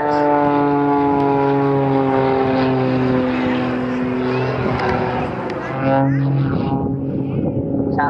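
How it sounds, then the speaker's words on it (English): A Meteor jet aircraft performs at the Western Air Festival, its engine a loud, sustained whine with steady tonal harmonics that shift slightly in pitch as it passes, while an announcer talks over it. "And he's in the Meteor jet."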